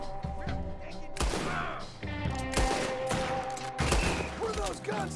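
Gunfire crackles in a Red Dead Redemption 2 shootout: bursts of rapid shots and single loud cracks come in clustered volleys, with a sustained musical score playing underneath.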